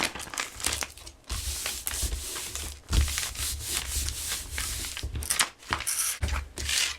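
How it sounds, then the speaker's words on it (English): Adhesive backer peeled away from craft material, a close, continuous rasping and crinkling with a few sharper tearing bursts, loud throughout with no voices. "So I am going to peel away that backer."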